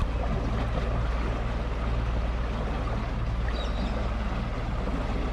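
A houseboat engine drones steadily cruising downstream at about 2200 rpm and 8 km/h between Wentworth and Murray Bridge, a constant low rumble with wind and water wash mixed in, close and continuous.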